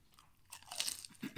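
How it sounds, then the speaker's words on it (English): A crunchy bite into a fried Panda Express crab rangoon, heard close and faint as a brittle crackle followed by soft chewing sounds. "Y'all hear that crunch?"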